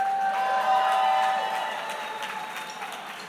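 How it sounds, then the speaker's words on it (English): Audience applause after a guest is introduced at a book event, a steady wash of clapping that holds strongly and then slowly thins and fades toward the end. "give Edward Norton another round of applause."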